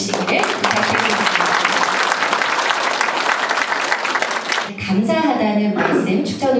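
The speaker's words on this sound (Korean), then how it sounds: "다시 한번 박수 부탁드리겠습니다." An audience at a ceremony marking the 104th anniversary of the Korean Provisional Government's founding gives loud, sustained applause, which breaks off near the end as a voice speaks over a public address system.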